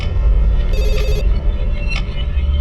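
An office telephone rings in short electronic bursts, loud and near, over a heavy low background score.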